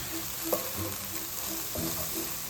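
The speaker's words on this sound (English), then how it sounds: "Keep stirring that up until your onions cook down" Onions with dried thyme frying over moderate heat in a pan, a soft continuous sizzle with a few brief scraping strokes of stirring, close and unvoiced.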